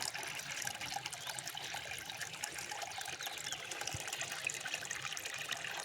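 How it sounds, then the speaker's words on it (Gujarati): Water runs steadily from a tap into a bucket being filled by hand, a continuous close trickle and splash with no voices over it. "પાણી આવ્યું છે ને ભરવાનું ચાલુ કર્યું છે।"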